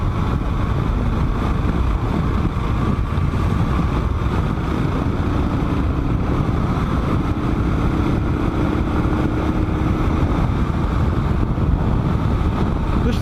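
A Kawasaki KLR motorcycle rides along the highway with a constant loud drone of engine and rushing wind buffeting the microphone, unbroken for the whole stretch.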